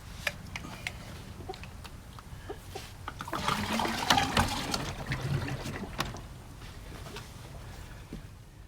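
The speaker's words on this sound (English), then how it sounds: "All right, let's go fill this up with water" Water runs and splashes into a jug being filled for a chicken waterer outdoors on a farm, a soft trickle that swells mid-clip and then eases, faint with scattered clicks.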